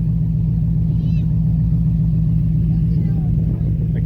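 Ford F150 STX pickup from 2014, fitted with a ported 2018 GT manifold and new intake, idling with a steady deep low rumble close by, with faint voices in the background.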